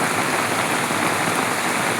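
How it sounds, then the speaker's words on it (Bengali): Steady, dense rain patters onto water in an even hiss, close and constant, with no voices. "এই যে বৃষ্টি, এই দেখেন পানিতে কেমন পড়তেছে।"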